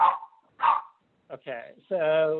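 Dogs indoors bark at a delivery, two sharp barks close together, then a person starts talking.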